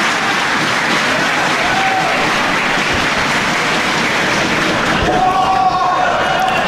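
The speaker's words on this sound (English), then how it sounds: "Listen to the crowd here in Philly." A wrestling crowd in a Philadelphia arena at a 2009 DGUSA event, roaring and cheering in a dense, continuous wall of noise, with scattered claps and a few thuds from the ring.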